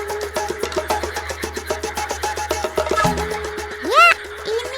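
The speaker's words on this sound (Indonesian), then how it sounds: "ini adalah suara kodok-kodok yang sedang bernyanyi" Many frogs calling together in a dense, continuous chorus: overlapping repeated croaks and trills, with one louder rising call near the end, close and steady with no talk.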